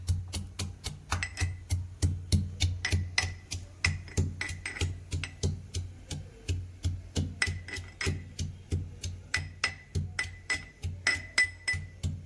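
Shallots being crushed with repeated rhythmic pounding, a steady series of sharp knocks roughly every third of a second, close and moderately loud, no voices.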